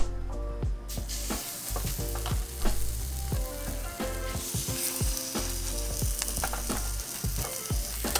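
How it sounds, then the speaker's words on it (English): Meat sears in a hot pan with a bright continuous sizzle, punctuated by repeated sharp clacks and scrapes of utensils, close and fairly loud. "I'm gonna sear it a little bit more and then cook the rest in the oven."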